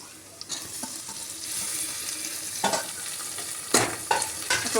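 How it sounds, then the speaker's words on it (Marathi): Onion paste and tomato sauté in a pan for Indrayani masala rice, giving a close, continuous sizzle with repeated scraping stirs of a spoon against the pan and no talking. "टोमॅटो चांगला मऊ होईपर्यंत भाजून घ्यायचा।"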